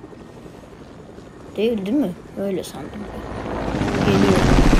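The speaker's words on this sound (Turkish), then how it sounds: "O helikopter sesi de nereden geliyor ya?" A video game helicopter's low, droning rumble swells louder toward the end, after a person speaks briefly over quieter background noise.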